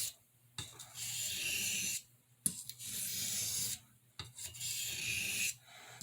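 The pen blade of a Boker Red Jig Bone C75 pocket knife is drawn across a sharpening stone in three quiet rasping strokes, each a second or so long, separated by short silent gaps.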